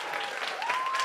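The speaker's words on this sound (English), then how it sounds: "So give a big round of applause to all of our third grade songwriters." Audience at a lower school concert applauding third grade songwriters, a short burst of dense, moderately loud clapping from a crowd with faint voices mixed in.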